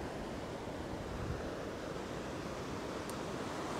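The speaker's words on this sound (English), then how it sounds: "Every now and then, the bigger waves are coming in" Ocean surf breaking steadily on a fishing beach, a continuous loud wash of rolling waves with wind noise and no pauses across the whole stretch.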